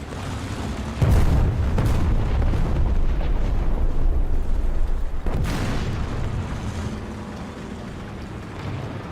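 A bomb explodes in Snowrunner: a loud sudden blast with deep rumble, followed by sustained roaring debris noise and a second burst a few seconds later, all heavy and close.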